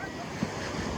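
Steady wash of sea surf at a Goa beach, a continuous broad roar with light wind buffeting the microphone and faint voices nearby.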